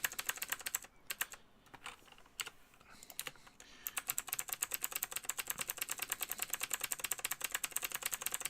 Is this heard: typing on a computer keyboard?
yes